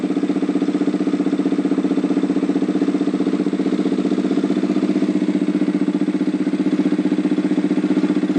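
An SWM Ace of Spades 125cc scrambler motorcycle idles steadily through its exhaust, a close, even, rapid low throb that holds unchanged from start to finish with no voices.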